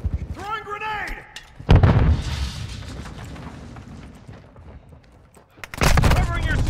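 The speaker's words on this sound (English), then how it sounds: "Throwing grenade!" A grenade blast in the video game Modern Warfare 2, a loud booming explosion rolling out over a couple of seconds and followed by another heavy burst near the end, with in-game voices and gunfire around it.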